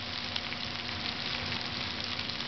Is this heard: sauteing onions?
yes